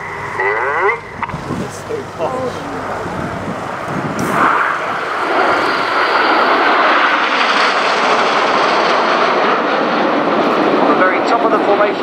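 Red Arrows jet aircraft roar overhead during a flying display at RIAT 2012, a loud sustained broadband engine rush that swells and holds steady, with a voice commenting over it at first.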